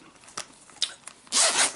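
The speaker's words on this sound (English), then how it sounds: "Nice, smooth, water-resistant zipper." Water-resistant zipper on a carrying case, with a few faint clicks of handling before one quick, smooth pull close by.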